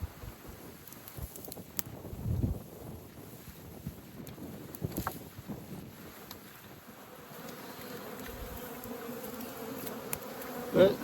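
A honeybee swarm being shaken into a hive, a low, steady buzz of many bees with light wind noise and a few bumps and knocks nearby.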